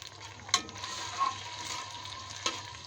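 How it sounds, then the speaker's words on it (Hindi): Garlic and ginger paste fries in a pan with a soft, steady sizzle, broken by a couple of sharp clinks from a utensil. "और ये अच्छी तरह भून जाए।"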